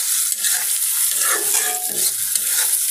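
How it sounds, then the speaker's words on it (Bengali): Onion fries in hot oil for a giant river prawn bhuna, making a loud, close, continuous sizzle with the scrape and shuffle of stirring running through it. "চিংড়ি মাছটা ভোনা করার জন্য এই যে পেঁয়াজটা ভেজে নিচ্ছি ভালো করে"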